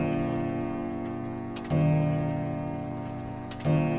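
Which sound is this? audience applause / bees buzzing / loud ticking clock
loud ticking clock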